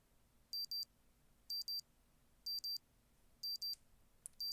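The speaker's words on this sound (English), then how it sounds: "A beeping sound I'm not used to wakes me up, because it's your phone alarm." Phone alarm in a video game beeping in quick paired bursts, four evenly spaced double beeps, clear and alone over a quiet background.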